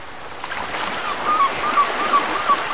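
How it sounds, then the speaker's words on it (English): Soft wash of sea waves in a children's learning game, a continuous surf hiss with gentle swells, joined late by a faint high chirpy tone. "The number washed in the sea, and now it's all wet."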